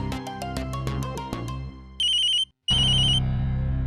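A telephone ringtone sounds loudly and alone: a quick run of descending chime notes, then two bursts of a bright electronic ring separated by a short silence.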